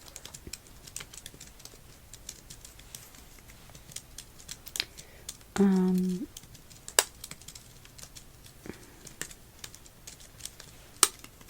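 Long nails clack on a computer keyboard in scattered quick bursts of sharp, close taps, broken midway by a short electronic tone, with no talking.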